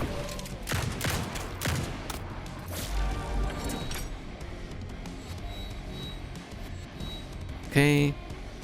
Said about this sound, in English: Currently using a shotgun, but there's also like revolvers